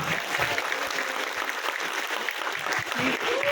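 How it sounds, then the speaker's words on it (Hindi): A group of trainee land-record officers at a training institute in Gwalior claps steadily in a hall, a continuous moderately loud round of applause with a few louder claps near the end. "जोरदार तालियां, जोरदार"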